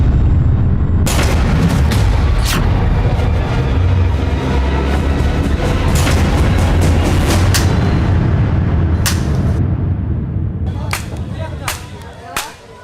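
Diwali firecrackers bursting in Delhi, a loud dense barrage of booming blasts and sharp cracking reports going off in rapid succession, tapering toward the end with a few last isolated bangs.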